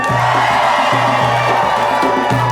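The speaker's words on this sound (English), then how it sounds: "Somebody scream about it." A live audience screams and cheers loudly and continuously, a dense crowd roar that fills the whole stretch with steady rhythmic low pulses beneath it.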